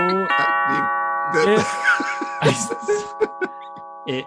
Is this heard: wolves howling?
no